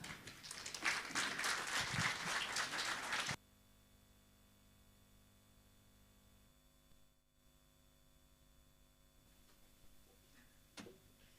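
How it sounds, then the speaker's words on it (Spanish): A church congregation applauds the choir arriving to sing at a Sunday service. A short burst of loud, dense clapping stops abruptly, then only faint electrical hum remains with a few small clicks. "con fuertes aplausos."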